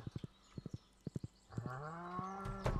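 A horse in the farming video game Stardew Valley clip-clops in three quick pairs of hoofbeats, then lets out a drawn-out whinny with a tonal, wavering neigh at the end, up close and with no talk over it.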